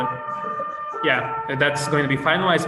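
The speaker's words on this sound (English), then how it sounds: "I apologize for the siren." An emergency vehicle siren wails outside, a steady tonal whine that runs beneath a person speaking during a meeting.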